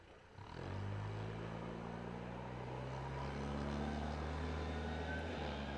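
An airliner departing Adelaide Airport for the Gold Coast: a steady, sustained jet roar that swells in after a quiet start and holds at a moderate distance with no talk.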